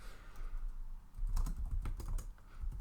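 Computer keyboard typing during a terminal session to move simulation folders, a quick run of key clicks that grows denser and louder in the second half, close and alone with no voices.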